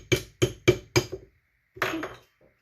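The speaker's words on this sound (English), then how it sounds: "So we're gonna hammer it open." Four sharp metallic hammer blows in a steady rhythm, hammering open a chainsaw carburetor part during a McCulloch 797 and Stihl 090 carb conversion, followed after a pause by a duller scraping knock, close and clear with no talking.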